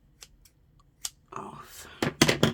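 Scissors snip through paper craft supplies in a few quick, close cuts, soft and quiet, after a short stretch of faint rustling.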